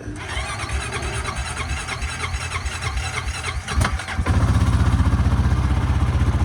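A Honda Rancher 420 ATV cranks with a whirring, squealing starter, then catches and settles into a loud, steady, throbbing idle close by.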